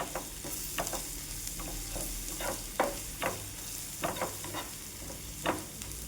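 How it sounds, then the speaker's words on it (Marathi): Finely chopped garlic frying and being stirred in hot oil, a steady sizzle with periodic scraping stir strokes, close by and without talk. "आता यामध्ये लसणाचे बारीक केलेले तुकडे घालून घेऊयात आणि ते पण छान तेलावरती परतून घेऊयात."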